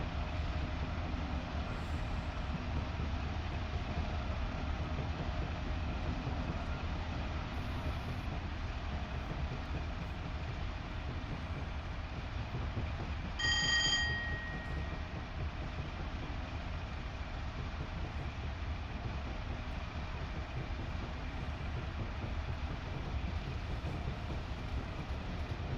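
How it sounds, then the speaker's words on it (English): In a train simulator on Scotland's Western lines, the locomotive engine drones in a steady low rumble throughout while passing a train idling in a siding, and a brief tonal horn-like note sounds partway through. "So there is a train idling in the siding here."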